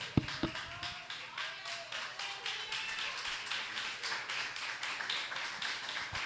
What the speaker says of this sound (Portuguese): Pode aplaudir pela vida do pastor